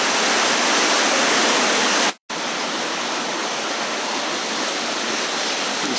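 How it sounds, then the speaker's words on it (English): A small creek flows out of a cave through a natural marble bridge, making a steady, dense rush of running water that holds loud and close throughout, with one brief drop near the two-second mark. "resurgence of this little creek that runs through the natural marble bridge"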